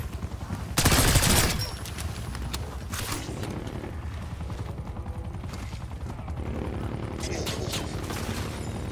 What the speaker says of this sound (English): There's a chopper gunner here?